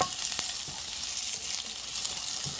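Garlic frying in a pan for palak paneer, a close, steady hiss of sizzling oil with light stirring taps and no voices.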